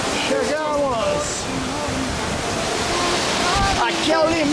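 Strong, steady rush of water pouring near a trailer stop in Gramado, a broad continuous roar filling the whole clip while voices talk and exclaim over it.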